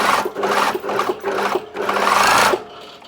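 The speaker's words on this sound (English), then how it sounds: "Now start sewing from the folded edge" Domestic sewing machine running a straight seam on fabric from a folded edge, a close, steady mechanical whirr in four bursts separated by brief pauses.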